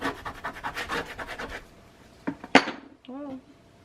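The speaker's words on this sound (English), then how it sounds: "I'm going to burnish these" A hand tool burnishing paper pieces for a craft stand insert: a quick run of rhythmic rubbing strokes, close and moderate, followed by a few isolated scrapes and a brief voiced exclamation.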